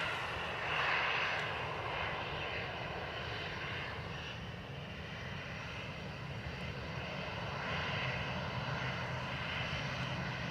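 An airliner arrives at Dublin Airport, its engines producing a continuous, moderately loud roar that swells slightly early on and then holds steady, with no talk.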